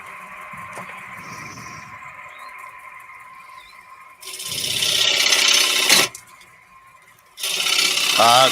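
Wood, cypress timber among the stated kinds, is sanded by hand with 120 grit sandpaper in two bursts of close, scratchy rasping strokes, separated by quieter moments with faint background sounds.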